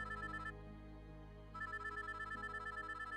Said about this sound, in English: the ringing phone awoke me early the following morning